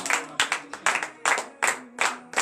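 Congregation at a Saturday morning prayer service in Benin claps in a steady rhythm, sharp bursts of applause repeating about every half second, with a few faint voices acclaiming underneath.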